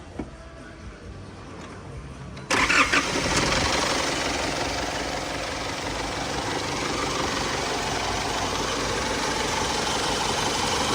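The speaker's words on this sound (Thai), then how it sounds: "ประกอบเสร็จเรียบร้อย มาติดเครื่องดูกันนะ" After a cylinder head repair, a Tata pickup's diesel engine cranks briefly and catches abruptly, then settles into a loud, steady, rough idle with a knocking rumble, close by.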